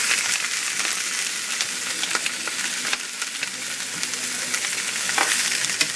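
Hot and mild Italian sausages browning in a pan make a dense, continuous sizzle and crackle, with occasional stirring scrapes, close and alone.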